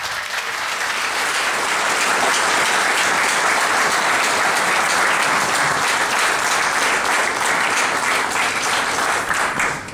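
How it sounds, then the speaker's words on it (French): A room full of people at a political aperitif-debate in Lille applauds warmly, a thick, sustained wash of clapping that stays loud and even for about ten seconds before easing off. "Je pense qu'on peut les applaudir chaleureusement."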